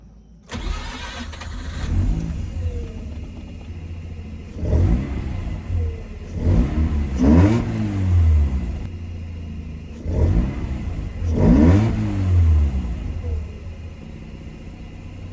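A Mazda RX-8 engine with its airbox removed revs repeatedly in loud surges, rising and falling with a rough, uneven idle between bursts, close by.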